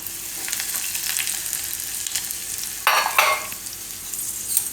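Green chillies and curry leaves hit hot oil for a tempering, a steady crackling sizzle with a sudden louder burst of spitting partway through as they are stirred, no talk.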